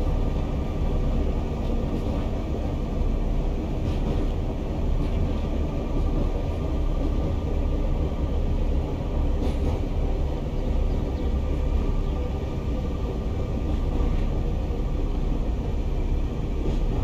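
A 1938 stock electric train with vintage bridge transition traction control runs along the line near South Kenton, its continuous low rumble and steady wheel noise filling the whole stretch at an even, close level with no talking.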